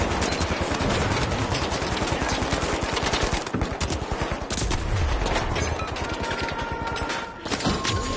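Sustained automatic gunfire from an enemy in a ranked online shooter, emptying a full magazine in one long, loud, rapid stream of shots that runs almost unbroken through the clip.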